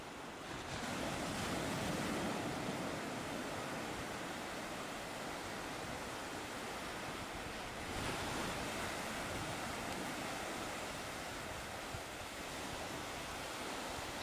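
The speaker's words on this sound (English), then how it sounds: "Peaceful area on that same beach right there in Swansea." Surf rolls onto a beach at Swansea, Tasmania in a soft, continuous wash mixed with wind rush, steady and fairly faint throughout, with no one speaking.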